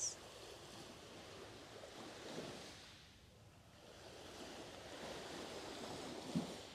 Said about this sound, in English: From the lapping of the waves on the shore